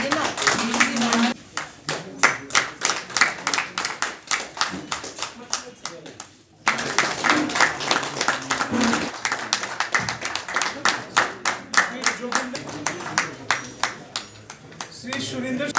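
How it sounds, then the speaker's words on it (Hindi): A group of people at a public gathering in India claps in steady, sustained applause with a brief break partway through, mixed with voices. "उधर के ग्रुप तालियां बजाइए"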